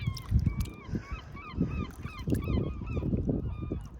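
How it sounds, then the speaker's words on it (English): Geese honk repeatedly in overlapping calls beside the Thames in London, some near and loud, others farther off, over a rumbling outdoor background. "Those birds are out, aren't they?"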